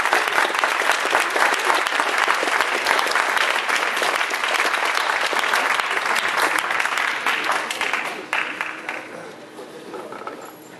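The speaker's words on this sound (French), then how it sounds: "Un tonnerre d'applaudissements pour le ballet de Karenor." A gala audience at a rock'n'roll dance studio show gives a hearty, dense round of applause for a ballet troupe's waltz, clapping strongly for several seconds before tapering off with a few late claps.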